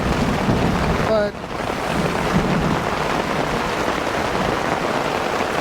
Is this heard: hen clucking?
no